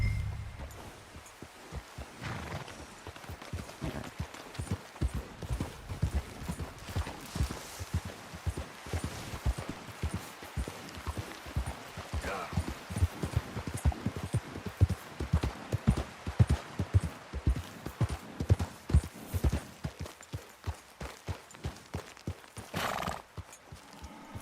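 Horse hooves clip-clopping in the Western video game Red Dead Redemption 2, a steady walking rhythm with occasional whinnies. The hoofbeats stay loud and close, with some scuffing and shuffling among them.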